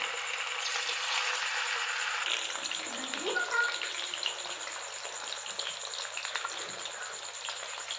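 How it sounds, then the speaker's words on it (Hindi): Potato slices deep frying in medium-hot oil give a steady, dense sizzle and crackle that fills the whole stretch, close and even in level, with faint background noise. "इनको हमने डीप फ्राई कर लेना है।"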